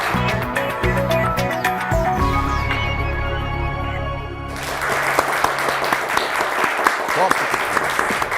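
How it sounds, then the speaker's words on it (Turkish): Studio audience on a Turkish TV word quiz show breaks into loud, dense applause partway through, following a stretch of music, with sharp claps continuing to the end. "Bir kocaman alkış lütfen."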